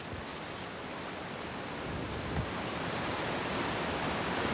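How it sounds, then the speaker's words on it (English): A waterfall in Outer Wilds pours as a steady, dense rushing hiss that fills the whole stretch at an even, fairly loud level, with no talk. "Is there anything behind the waterfall, Zelda style?"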